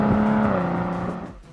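A loud, throaty exhaust from a BMW M340i xDrive drones steadily with a deep, rumbling engine note, then eases off slightly toward the end.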